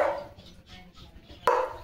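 Leo, a German shepherd, barks in two short, sharp bursts spaced over a second or so, fairly close and alone with no talk.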